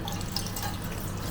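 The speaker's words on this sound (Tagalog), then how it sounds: "maghugas muna tayo" Tap water runs steadily into a kitchen sink during dishwashing, a constant close rushing wash with no talk over it.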